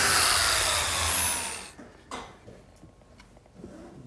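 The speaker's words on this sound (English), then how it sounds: "the first step is to cut some slots for biscuits to join the pieces together" A biscuit joiner whines at full speed while slotting a plywood shelf edge, then spins down and stops, followed by a few faint knocks and handling taps.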